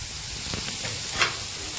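Potatoes stir-fried in a pan for a Gujarati farali sukibhaji, giving a steady close sizzle with a few soft stirring scrapes throughout, and no voices.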